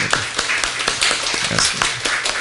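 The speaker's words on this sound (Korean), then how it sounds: "환영의 박수 하겠습니다" Welcoming applause from a church congregation at a Sunday worship service, a short burst of scattered claps with no talking.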